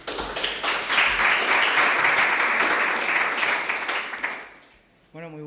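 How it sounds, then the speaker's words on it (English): Applause from a pitch competition audience greets the next startup presenter, a dense steady clapping that fills the room for about four seconds, then thins and fades as a voice begins speaking near the end. "Give him an applause, please"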